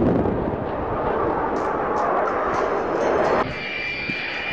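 Aerobatic team aircraft flying in formation roar loudly overhead in a sustained engine rumble that drops away sharply near the end.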